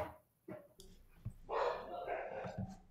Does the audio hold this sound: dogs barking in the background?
yes